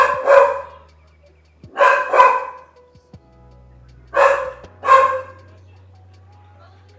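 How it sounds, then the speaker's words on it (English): A house dog barks at people standing just outside the front door, giving four loud, close bark bursts in two pairs with short quiet gaps over a low steady hum. "They're literally just standing right outside the front door with the dog. So my dog's popping off."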